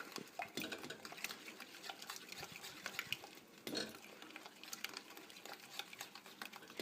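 A whisk stirs melted butter in a bowl for an Assyrian kadeh pie, making steady soft scraping and clinking, quiet and close throughout.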